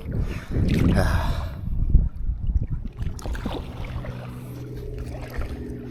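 Small sailboat moving through open water during the Everglades Challenge race, with wind buffeting and water splashing against the hull up close, loud at first then settling into a steadier rush.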